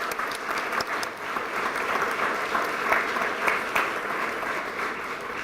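An audience claps steadily at a drug treatment court graduation ceremony, a dense, even wash of applause from a sizable crowd that holds at a constant level throughout, with no voices over it.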